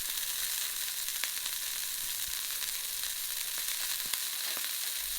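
Black pepper-crusted steak (steak au poivre) sizzles and fries steadily in a pan just after being flipped, a continuous even crackle with a few small pops, close and alone.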